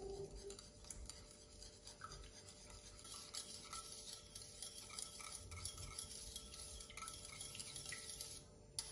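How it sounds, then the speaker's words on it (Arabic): Water being stirred together with syrup, spices and salt while preparing a kofta sauce: a faint, steady swishing and light clinking that runs alone and without pause through the whole stretch. "بخلطهم منيح مع بعض"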